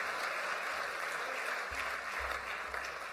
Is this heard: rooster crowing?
no